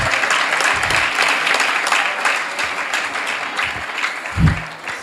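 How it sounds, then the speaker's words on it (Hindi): An audience bursts into loud, dense applause at a religious gathering celebrating a world record honoring Gurudev's birth anniversary. The clapping is sustained throughout, with a brief voice surfacing near the end. "जोरदार तालियां"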